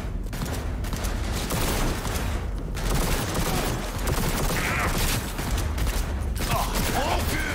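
Pistol fire in the video game Cyberpunk: a quick string of loud, sharp shots with brief pauses, set against a dense, noisy firefight.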